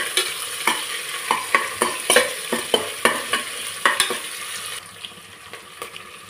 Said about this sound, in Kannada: ಇದೊಂದು ಸ್ವಲ್ಪ ಗೋಲ್ಡನ್ ಕಲರ್ ಬರೋವರೆಗೂ ಫ್ರೈ ಮಾಡ್ಕೊಳ್ಳಿ